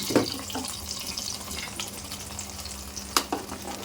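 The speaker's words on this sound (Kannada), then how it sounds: "ಈಗ ಇದು ಹಾಕ್ತಾ ಇದ್ದೀನಿ ತುಪ್ಪ ಮತ್ತು ದ್ರಾಕ್ಷಿ" Raisins hit hot ghee in a pan and set off a steady close frying hiss, broken by a few sharp clinks of a utensil against the pan.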